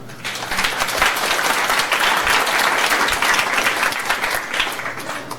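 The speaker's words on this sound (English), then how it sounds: "So Gavin, one round of applause." An audience at a VR meetup hosted at Samsung applauds a presenter, a dense, sustained burst of clapping at full strength for over five seconds before easing slightly.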